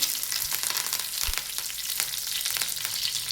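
Mustard seeds, cumin and curry leaves sizzle in hot oil on a tawa for pudina rice, a loud, steady close-up hiss with scattered crackles and pops throughout.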